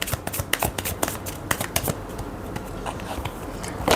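Oracle cards being shuffled by hand, a close flurry of crisp riffling snaps and flutters in quick irregular bursts that ease into a softer steady rustle.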